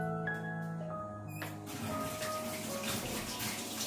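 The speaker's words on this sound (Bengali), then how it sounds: "বেসিনে যাও, বেসিনে ধুয়ে নাও।" Tap water running into a wash basin as a child washes hands at home, a steady splashing stream starting after a few soft clinks and continuing close and moderately loud.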